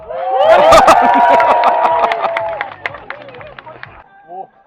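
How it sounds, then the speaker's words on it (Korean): A crowd at a Honda Day motorcycle gathering in Gyeongju cheers and claps. A loud burst of many shouting voices and claps swells at first, then thins into scattered calls and a few trailing voices. "박수와 함성으로."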